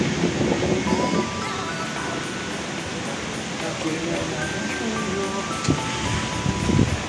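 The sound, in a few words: strong wind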